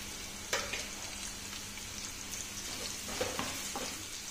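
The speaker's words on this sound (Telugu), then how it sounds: "ఈ ఉల్లిపాయని దోరగా వేగనిద్దాము." Onion frying in a pan, a steady close sizzle with occasional sharper crackles and pops.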